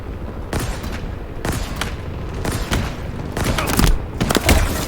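Video game gunfire in bursts of rapid automatic shots with thuds and booms, loud and dense over a constant rumbling background. No one speaks.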